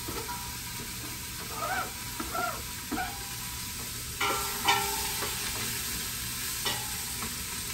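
Celery tipped into onions already sautéing in a pan, producing a steady sizzle broken by several stirring scrapes and clinks of a utensil against the pan, close and clear.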